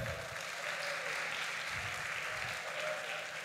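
A church conference audience applauds steadily, a dense, even wash of clapping that holds at the same level throughout with no voices on top.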